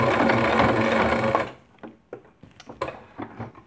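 A sewing machine stitches through thick fabric for a towel key-ring strap, straining slightly as it runs loud and steady for about a second and a half before stopping, followed by a few soft clicks and handling noises.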